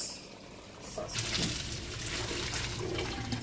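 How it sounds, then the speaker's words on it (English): Water from cooked spaghetti pours out in a rushing stream that starts after a brief pause and keeps splashing and gurgling steadily, as if tipped into a drain. "So here I'm going to drain my pasta out."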